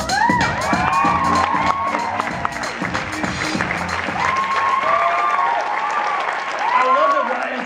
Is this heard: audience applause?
yes